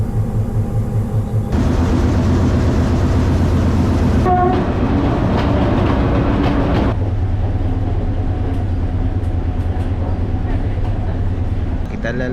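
A train on the upcountry line between Colombo and Badulla, near Demodara, rumbles steadily with clattering carriages. A brief horn-like tone sounds midway, and people talk over the train noise.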